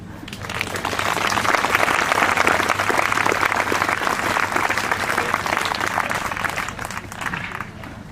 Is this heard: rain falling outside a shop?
no